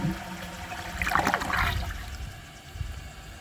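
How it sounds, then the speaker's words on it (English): A 1996 Universal-Rundle Atlas toilet flushes in a single gurgling rush of water that swells and then fades into trickling refill, heard close with no talk. "I guess I'll give it another couple flushes and see if it can take the"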